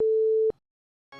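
A single steady electronic tone holds for half a second then cuts off, followed by silence and the start of a brief buzzy tone, a phone line's busy signal.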